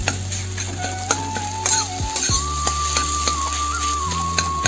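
An egg fries in a hot pan, a close, steady sizzle with occasional scraping and tapping from stirring, continuous throughout.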